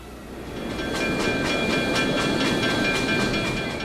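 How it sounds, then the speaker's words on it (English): Dry Brook & Esopus Valley locomotive number 13 backing a train out of a station siding onto the main line, a steady rumbling roll with rhythmic wheel clatter and a faint high squeal, building slightly then holding. "Number 13 backs the train out of the station siding and onto the main line."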